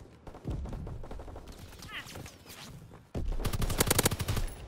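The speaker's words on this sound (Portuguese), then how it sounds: "Não tem recoil essa arma, velho." Call of Duty WWII submachine gun firing with no recoil, steady rapid bursts at moderate volume, the heaviest run near the end, with someone talking at times.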